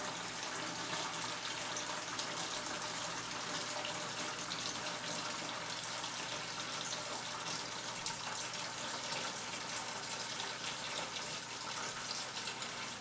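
Aquarium water pours steadily into buckets while a 55-gallon fish tank is drained for an upgrade, a dense, even gushing hiss that continues unbroken and alone throughout.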